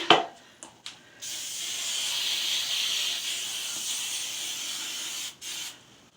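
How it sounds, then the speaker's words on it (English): A few soft clicks, then a long continuous hiss of a carrot hair spray running for about four seconds before cutting off, close by. "then I'm going to get my carrot spray"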